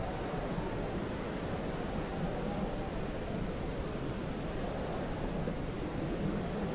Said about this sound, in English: It's pretty windy, I can hear it down here.